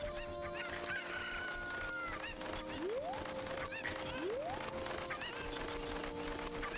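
Cuccos cluck and squawk continuously over a steady electronic background, with rising synthetic chirps repeating, game sound effects from The Legend of Zelda: Ocarina of Time.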